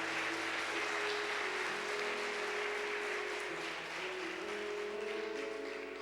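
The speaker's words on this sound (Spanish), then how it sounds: "Dale un aplauso al Rey de Reyes y Señor de Señores." Congregational applause during a church service, a broad, even wash of clapping that holds steady at moderate distance while a soft sustained musical tone plays underneath.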